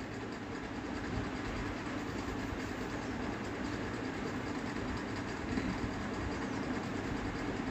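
A sewing machine runs steadily as it stitches round and round the edge of a doormat made from old saris, giving a continuous close mechanical clatter with no pauses.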